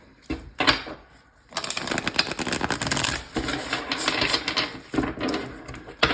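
Tarot cards are shuffled close by in rapid riffling bursts, a short flutter followed by a longer continuous riffle with brief pauses.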